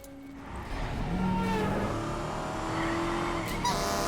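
A stolen FBI car speeds off in a film chase, its engine revving hard and climbing through the gears, with tire squeal. Loud and continuous, with no speech.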